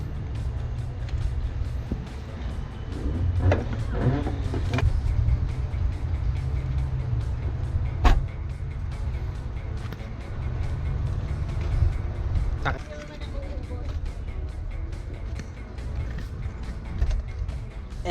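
Steady low engine rumble and road noise from inside a car on a long drive to a campsite, continuous and moderately loud, with a few faint clicks and thumps over it and no clear talk.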